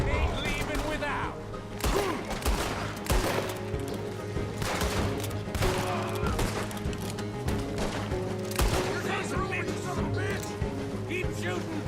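Gunfire in a Red Dead Redemption 2 shootout: dense, repeated shots and bursts throughout, fairly loud, mixed with other game sounds and occasional character voices.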